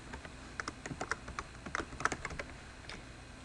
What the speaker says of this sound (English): I'm bad at typing right now.